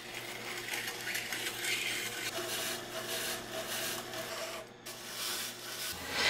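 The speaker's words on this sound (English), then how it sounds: "placing the scraper on the bottom, pushing evenly against the sides of the stone" A steel scraper is pressed against the turning stone of a Tormek T-8 grinder, giving a steady close rubbing and grinding hiss over the machine's low hum, pausing briefly before resuming.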